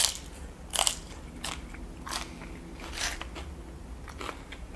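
Several crisp, crunchy bites into tortilla chips, spaced a second or so apart, close and clear against a quiet background.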